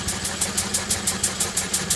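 A 1951 Lister D stationary engine runs steadily at its working speed, a regular chuffing thump about five beats per second, close and fairly loud with no talk.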